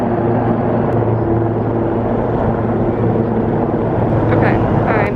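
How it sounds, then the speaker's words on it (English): A helicopter takes off somewhere in the city, heard as a broad, steady rumble from a distance with faint rotor beating toward the end. "Oh, there's a helicopter taking off."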